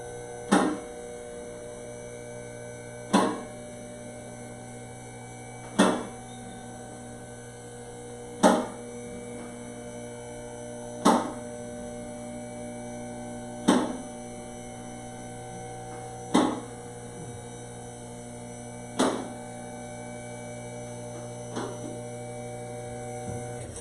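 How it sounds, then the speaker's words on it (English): Steady, low electric hum from a car lift motor in a garage, broken by sharp, regular clicks every few seconds, moderately loud and continuous throughout. "I don't know if they can even hear me with the lift running."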